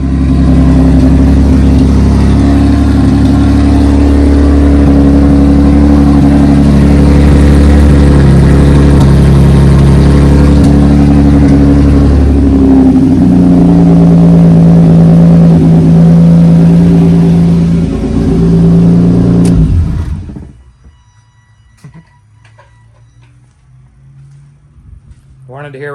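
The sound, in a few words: Mazda Miata engine revving with no exhaust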